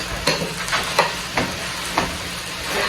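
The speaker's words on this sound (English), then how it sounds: "So we could just start chopping at it as it cooks." Chicken meat sizzles loudly in a hot pan, a dense steady frying hiss broken by five sharp chopping taps as a utensil cuts into the meat while it cooks, close-up and without talking.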